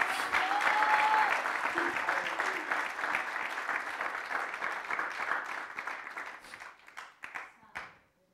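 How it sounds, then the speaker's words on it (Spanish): A church congregation applauds, a full burst of many hands that starts strong, then thins and tapers off into scattered claps near the end, with faint voices mixed in. "Un aplauso a Cristo."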